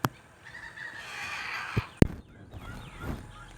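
Homestead fowl call out close by: a sharp squawk at the start, then a drawn-out honking, gobbling cry, two quick clucks near the middle and softer calls toward the end over quiet background.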